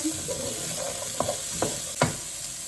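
Jackfruit and chopped carrots frying in a pan for jackfruit patties, with a soft steady sizzle and three distinct stirring scrapes close by.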